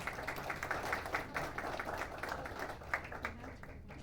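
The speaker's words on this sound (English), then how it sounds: "Let's give them a round of applause." Wedding guests applaud the bride's parents as they step up to speak at the reception: faint, distant clapping with a dense, even texture, trailing off near the end.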